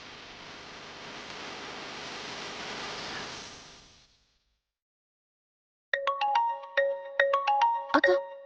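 A phone ringtone plays a bright, repeating electronic melody for an incoming call, entering after a stretch of broad hiss fades to silence; the tones come in quick, clipped bursts at close range.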